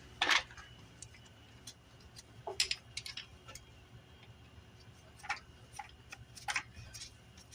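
Two 8mm bolts come off the starter of a 50cc scooter with a few sharp, close metallic clicks and ticks, spaced seconds apart over a quiet background.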